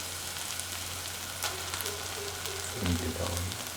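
Ground cashew and shallot onion paste sizzling in hot oil in a pan for an okra stew, a steady close frying crackle with a brief clatter and voice-like murmur partway through.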